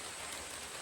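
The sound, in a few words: heavy rain falling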